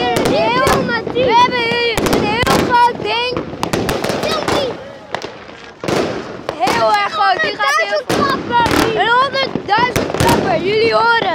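Repeated sharp fireworks bangs and crackles burst out close by, with people talking and exclaiming loudly between and over the blasts.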